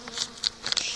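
Honeybees buzz at an opened hive during autumn feeding and insulating, a steady close insect drone with swelling louder passes of individual bees, no voices.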